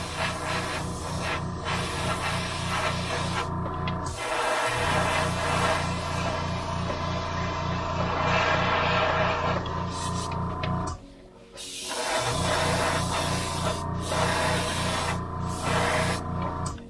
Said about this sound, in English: This is really spraying nice.